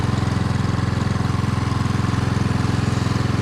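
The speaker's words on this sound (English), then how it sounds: "the engine is struggling a lot more. So, but it is doing the job, and it can run full throttle just like I want it." A homemade outboard boat engine runs flat out at full throttle, a loud, steady buzzing drone with a fast, even pulse that holds unbroken throughout, with no voices.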